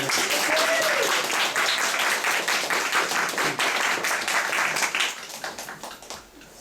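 Audience applause after a talk at a community event: sustained, loud, even clapping from a crowd for about five seconds, then quickly dying away.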